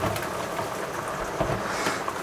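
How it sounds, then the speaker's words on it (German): Heavy rain drums steadily on the outside of a Westfalia James Cook high-roof four-wheel-drive camper van, a dense continuous hiss without pauses or talk. "Hier regnet es zu doll."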